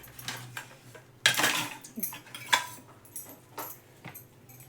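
A knife cuts through cooled, crisp kothimbir vadi (coriander fritter cake) on a kitchen surface, making a few sharp, close clacks and taps with short gaps between them.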